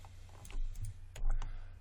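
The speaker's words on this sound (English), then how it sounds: "hit 3 on my keyboard" Computer keyboard keys pressed while modelling in Maya 2017: a few light, close clicks spread over two seconds, with a low steady hum behind them.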